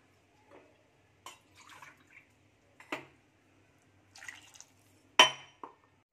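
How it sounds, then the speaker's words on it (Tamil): Half a tumbler of water is poured into a pan of cooking vegetables with field beans for a Pongal poriyal, giving a few brief, faint splashes and light clinks amid near silence, with no talking. "இது கூட நம்ம 1/2 டம்ளர் தண்ணி சேர்த்துக்கலாம்."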